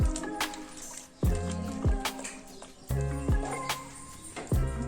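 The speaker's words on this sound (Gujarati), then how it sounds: "થોડોક આસો કરવો પડશે ને, નાખી દઉં થોડુંક પાણી." Water is poured into bhajiya batter in a bowl, giving soft splashes and several distinct wet, squishy plops at irregular intervals, close by.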